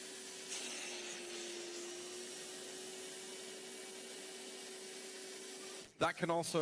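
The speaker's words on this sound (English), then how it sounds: "I'm going to do a little bit of over vacuuming." A vacuum cleaner running steadily inside a car interior during detailing, a constant loud whine with a sustained tone, ending in a few abrupt knocks and shuffling noises as the hose moves.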